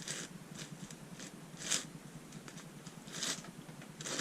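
A sanded 3D-printed plastic twisty puzzle, a 4x8x10 shapeshifter, is turned by hand, giving soft, close rustling clicks and a few louder crunchy snaps as layers rotate, fairly quiet overall.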